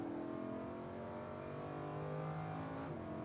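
Lamborghini Huracan engine pulling on a race track at Exotics Racing in Las Vegas under light throttle, a steady, moderately loud droning hum that rises slightly in pitch as it accelerates.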